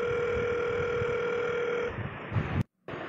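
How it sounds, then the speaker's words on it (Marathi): A telephone dial tone hums steadily while a call is placed, then cuts off, followed by a short silence and a soft resumed tone with low background noise. "थांब मण्याला फोन लावू आपण."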